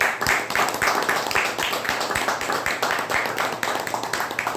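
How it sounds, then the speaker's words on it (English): Applause from an audience at a Toastmasters club meeting, a dense, steady patter of many hands clapping close by that carries on without a break. "Please give a thundering round of applause"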